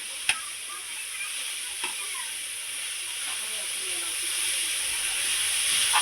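Spicy momo filling fries in a pan with a steady, moderate sizzle and hiss, broken by a few brief stirring clinks near the start; no talking.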